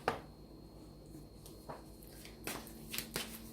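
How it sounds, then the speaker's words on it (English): Tarot cards are shuffled by hand in soft, quiet riffles and taps, a few faint papery bursts in a calm room. "As I shuffle the cards"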